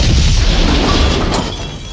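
Video game explosions play on the Command & Conquer Nod score screen as buildings blow up. A loud, close, booming rumble with crashing debris slowly fades over two seconds.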